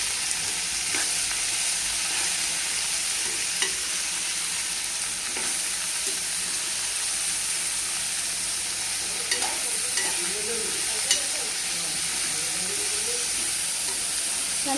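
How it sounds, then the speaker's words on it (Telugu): Ivy gourd fry with turmeric being stirred in a pan: a steady low sizzle with scattered scraping clicks of the spoon against the pan, continuous and fairly close, with no voices. "పసుపు వేసుకుని కలుపుకుంటున్నాను"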